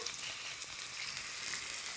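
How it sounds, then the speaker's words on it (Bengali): Papaya, potato and carrot pieces frying in hot oil in a kadai, making a soft, steady crackling sizzle heard close by for the whole stretch, with no talking. "আমি এবার সবজিগুলো কড়াইতে তুলে দিচ্ছি হালকা কষিয়ে নেওয়ার জন্য।"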